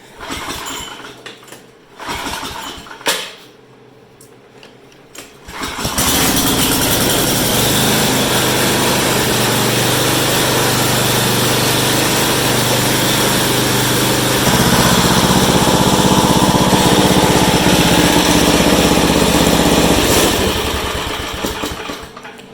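A small snowblower engine sputters and coughs, then roars to life and runs loudly and steadily, its pitch shifting slightly partway through.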